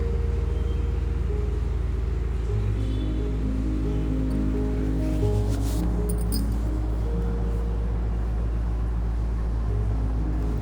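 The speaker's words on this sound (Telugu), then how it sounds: "కొంచెం వాటర్ వేసుకొని మళ్ళీ ఒకసారి పట్టుకుందాము" An electric mixer grinder churns butter with a little added water, giving a steady, loud motor drone with a low, continuous rumble and whirring, running alone throughout.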